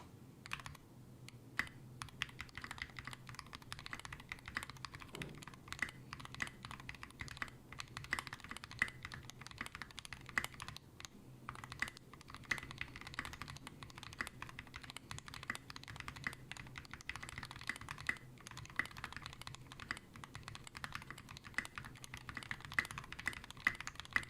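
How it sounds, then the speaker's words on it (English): Continuous typing on a mechanical keyboard fitted with SA Bliss keycaps, a steady close run of clacky keystrokes for the whole stretch with brief pauses and no talking. "So let's do a quick typing test"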